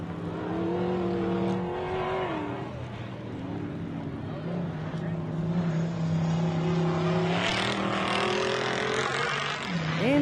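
Off-road buggy engines at a rock crawling race, including a Trick Toy Fab buggy, hum and rev in rising and falling pitches at middle distance, with an announcer talking throughout.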